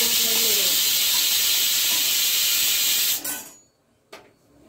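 A pressure cooker whistle shrieks loudly with a steady hiss of escaping steam in a home kitchen, cutting off abruptly after about three seconds, followed by a short, fainter puff of steam.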